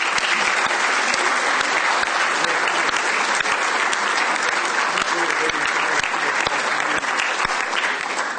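A conference audience at a space economy panel gives steady, dense applause for the panellists, sustained and even from start to finish.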